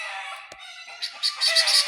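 Several chickens cluck and a rooster crows in short bursts, growing louder and busier toward the end, with no talking.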